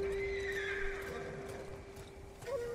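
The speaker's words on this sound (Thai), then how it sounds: "เฮ้ยนี่ไงม้าใหม่" A horse in the video game Ghost of Tsushima gives a faint neigh over a low steady game backdrop with a sustained tone, and a brief hoof-like sound comes near the end.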